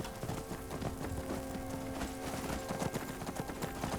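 Horse hooves clip-clopping in the video game Skyrim, a rapid, steady run of close hoofbeats over an ongoing musical drone, with no talking.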